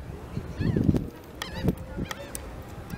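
Geese honk at an amusement park, several loud nasal calls in short bursts near the start and middle, close by over outdoor background noise.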